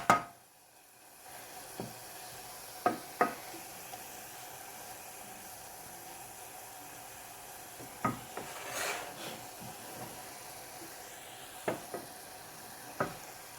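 Corned beef and vegetables frying in a pan for a meat pie filling, a faint steady sizzle broken by occasional scrapes and clicks of a utensil stirring, quiet and close, with no talking.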